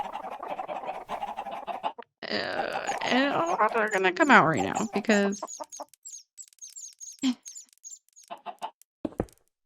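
Minecraft chickens clucking in a burst of rapid, overlapping bird-like calls and chirps, with someone talking over the game sounds before and after.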